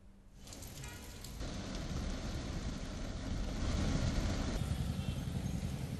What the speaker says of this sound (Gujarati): ખૂબ સુંદર વરસાદ વડોદરા ખાતે પડી રહ્યો છે